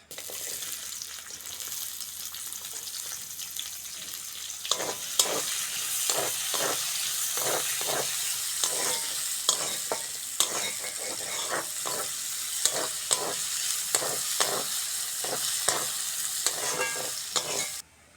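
Chopped onion fries in oil in a wok for a Bengali prawn and yam curry, a continuous hissing sizzle punctuated by a regular series of spatula scrapes and taps, close and without talk.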